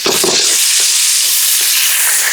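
Ginger garlic paste fries in hot oil in a wok for devilled chicken wings, giving a loud, close, continuous sizzle with some stirring and no talking.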